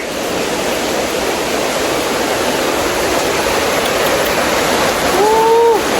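Floodwater rushes past a house in Laos after a storm and heavy rain, a loud, continuous roar of churning water that stays steady throughout, with a brief thin tone rising near the end.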